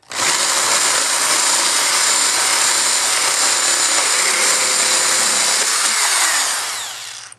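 A rotating power tool cuts through PVC pipe in one loud, steady, high-pitched whir up close, with no talk, then winds down at the end.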